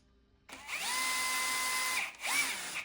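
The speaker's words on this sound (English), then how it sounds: "we're going to take our 1/8 inch drill bit and we're just going to drill directly through these holes" A power drill with a 1/8 inch bit whines steadily as it bores through holes in a KTM motorcycle fork guard bracket, pausing briefly before a second short burst; close and loud, no talking.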